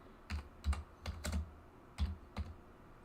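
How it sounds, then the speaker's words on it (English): Fingers tap a computer keyboard in short irregular bursts of crisp clicks, close and fairly quiet, with pauses between groups of keystrokes and no speech. "I'm just going to type in make me"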